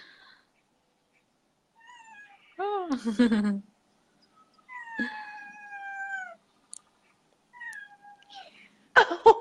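A cat meows several times nearby, drawn-out wavering cries separated by pauses, with a brief human exclamation among them.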